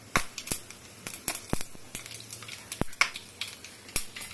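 Mustard seeds and cumin crackling in hot oil, with sharp, irregular pops and spits scattered over a soft sizzle, close and fairly loud.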